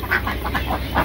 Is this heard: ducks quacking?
yes